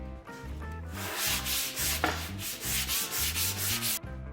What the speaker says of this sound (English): take a regular block of wood, wrap your sandpaper around that, and use that. Go back and forth just like the power one